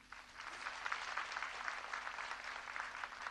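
Audience applause at an opening and groundbreaking ceremony in Kula, Turkey, a steady burst of many hands clapping at a moderate distance with no talk over it.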